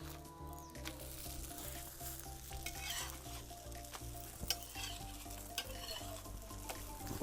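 Kerala parotta sizzles and fries on a hot griddle stone, a steady close crackle with faint scraping and a low kitchen hum, no talking.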